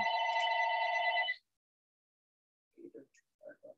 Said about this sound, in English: Do you need to get that phone?